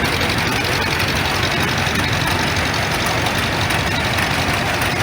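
A 1947 Farmall Cub tractor engine runs loud and steady at close range during an old engine show parade, a continuous low rumble with a constant chug and no break.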